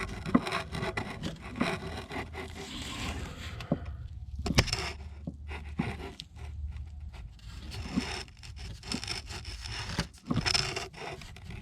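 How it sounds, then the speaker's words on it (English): Screwdriver prying transfer case linkage rods off their plastic bushings on a Jeep Grand Cherokee, giving close scraping, rubbing and clicking bursts with brief pauses over a steady low hum, no talking. "We're just going to stick a screwdriver in between them and just pry them off."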